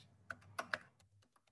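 Several taps on a computer keyboard, sparse and irregular, a few sharper keystrokes standing out over a low steady hum, no voices.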